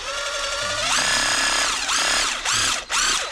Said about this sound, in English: I'm going to drill a pilot hole on each end